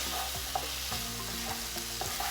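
Asparagus in tomato sauce sizzles over a high gas flame while a utensil scrapes and stirs through it, close and steady, with repeated soft strokes and no voices.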